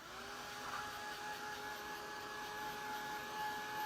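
A dryer blows air to set paint on a gift sack, a faint, continuous whir with a steady motor tone and no pauses, no voices over it.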